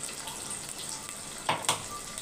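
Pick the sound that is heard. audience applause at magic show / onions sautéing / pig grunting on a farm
onions sautéing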